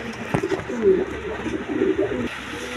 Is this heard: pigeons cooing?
yes